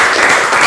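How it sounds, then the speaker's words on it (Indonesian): Short burst of audience applause, dense clapping from a crowd at a talk or speech event, loud and even throughout its brief length. "tepuk tangan"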